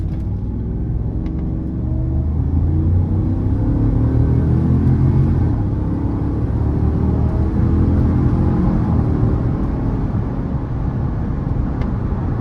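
A 2019 GMC Yukon Denali with aftermarket wheels accelerates at full throttle, heard from inside the cabin as a steady loud engine roar and road rumble that holds without a break, and nobody talks.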